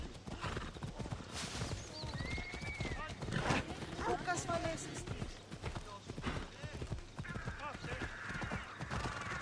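Steady clip-clop of a horse's hooves under a rider in Assassin's Creed Odyssey, with an occasional whinny and game voices talking over the trotting rhythm.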